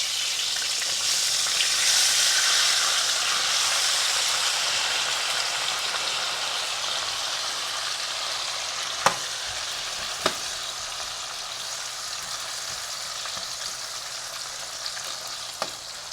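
Frozen potatoes fry in hot bacon oil with bits of bacon, a steady close sizzle and crackle with a few sharp pops, and no talking.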